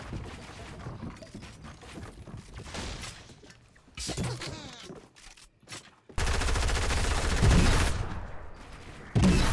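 Flintlock gunfire in a video game, loud bursts and cracks scattered through a noisy, busy stretch of game sound, with the heaviest firing near the end.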